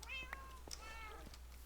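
A cat in the game Minecraft meows twice, a short clear pair, quiet and alone over low steady background hum.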